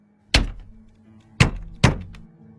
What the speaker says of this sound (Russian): Почти без всяких сомнений это был звук удара кулака по стеклу.